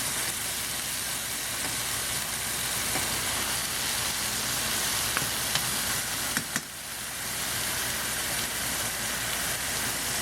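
Pomfret fish fries in a ginger garlic sauce with a steady, dense sizzle and crackle close by, briefly dipping for a moment before resuming.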